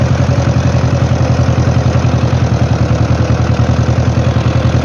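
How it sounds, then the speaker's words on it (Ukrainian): A farm tractor used during spring sowing of barley and wheat runs steadily nearby, its engine thrumming loud with a fast, even low-pitched pulse throughout. "Такий от тракторець."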